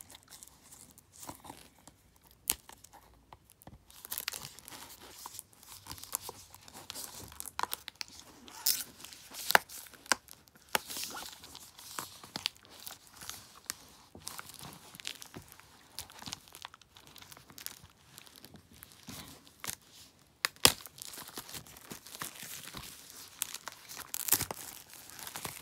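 Plastic shrink wrap being torn and crinkled off a Nintendo Switch game box for Nickelodeon Kart Racers 3 Slime Speedway, close up, with irregular crackling rips and rustles repeating across the whole stretch, no talk.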